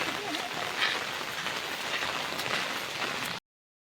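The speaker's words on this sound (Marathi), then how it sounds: "पाऊस पण इलो लय मोठो." Heavy rain drums steadily on surfaces outdoors beside a stream where crab traps are set, a loud, dense wash of noise that holds evenly and then cuts off abruptly.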